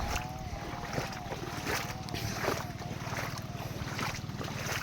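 A steady diesel engine on a farm in an eggplant field drones throughout with a rhythmic chugging, mixed with wind and water noise, fairly loud and continuous.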